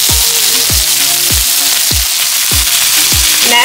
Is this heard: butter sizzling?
yes